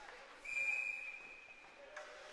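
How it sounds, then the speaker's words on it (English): A referee's whistle at a youth 16U ice hockey game gives one sustained shrill blast, heard at a distance over arena crowd murmur and faint rink noise. "There's the whistle."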